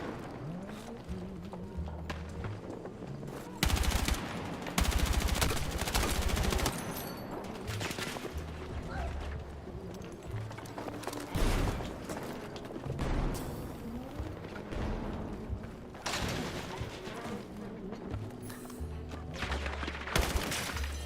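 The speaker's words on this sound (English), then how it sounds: "Why does my gun keep going?" A gun in a video game fires repeatedly in loud, dense bursts of rapid shots, with sustained volleys and brief pauses, close and dominant over the game's background sound.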